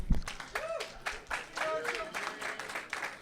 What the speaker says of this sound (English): Give yourselves a round of applause for showing up.